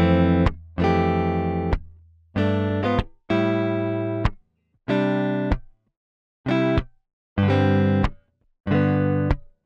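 Bright, distorted electronic guitar chords in a math rock style hit in short rhythmic bursts with sharp slap accents, eight clipped stabs separated by brief silences.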